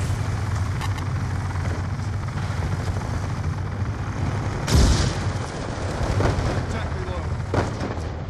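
Helicopter delivering a care package in the Black Ops 2 multiplayer game, a steady low rotor drone under constant battle noise, with a short louder burst midway and faint scattered gunfire.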